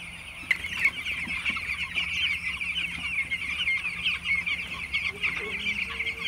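Broiler chickens, about twelve days old, fill a farm shed with steady soft clucking and peeping, a continuous dense chorus close by with low hum underneath.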